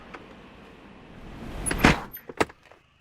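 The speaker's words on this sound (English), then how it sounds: "We'll go ahead and shut the door on the passenger side." Passenger door of an aircraft in a flight simulator game shutting, heard as a soft rustle followed by a sharp close-range thump and a couple of lighter clicks and rattles, with no voices.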